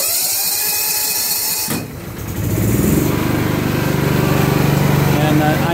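An off-grid generator engine runs close by, first with a buzzing drone, then after a brief dip it settles into a steady lower, smoother hum at reduced RPM.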